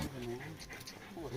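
Dogs on a wild boar hunt in hilly village country pant and whimper close by, mixed with constant talk and outdoor noise.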